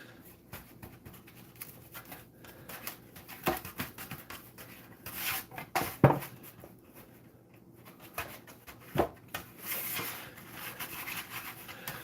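Butter is rubbed around the bottom and sides of a deep baking tray, giving soft close scraping and rubbing strokes in uneven bursts with short pauses, no talk.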